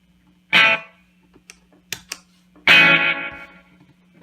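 An electric guitar played through a Toronto City Transit Delay Deluxe pedal rings out in two loud strummed bursts, separated by a few short picked notes, each trailing into a sustained delay tail over a steady low hum.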